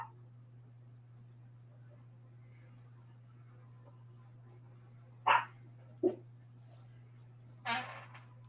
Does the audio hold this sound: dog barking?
yes